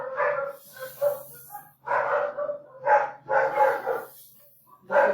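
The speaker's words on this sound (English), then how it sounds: "That would be the dogs." Several dogs bark inside a house in loud, repeated bursts, close by, with short pauses between volleys.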